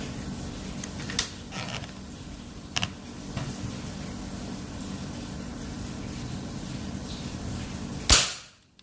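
Third shot from a folding Predator PCP air rifle, ATAMAN Monel build at 3500 psi with a 40 cm Yumaja multi-slug barrel: a few light mechanical clicks over steady ambient noise, then one loud, close crack that decays fast into silence.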